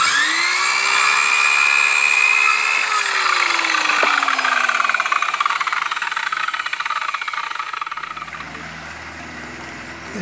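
A single-phase 220 V one-third horsepower electric motor powered by an off-grid solar kit with a stationary battery and inverter, humming steadily with a high whine up close, slowing and winding down near the end.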